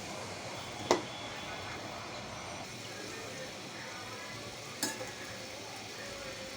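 Chopped onions fry in oil in a pan, giving a steady low sizzle throughout with two sharp knocks of a spatula against the pan, fairly faint and close.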